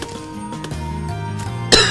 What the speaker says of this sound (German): Und muss die ganze Zeit immer wieder ein bisschen husten.